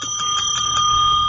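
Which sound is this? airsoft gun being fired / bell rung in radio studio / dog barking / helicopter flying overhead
bell rung in radio studio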